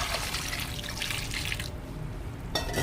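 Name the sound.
water poured into pot with corn for seafood boil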